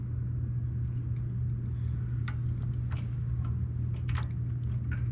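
A small two-stroke engine on a 1975 Cimatti City Bike moped, freshly repaired, hums at a steady low pitch throughout, with light mechanical ticking and clicks scattered over the top, close by and with no voices.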